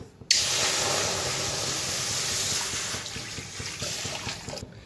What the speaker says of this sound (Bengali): তো দিয়ে দিব জল।